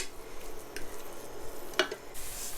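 Chole stew stirring and sizzling in a pot, a low steady bubbling hiss with a soft scrape of the spoon partway through, close and fairly quiet throughout.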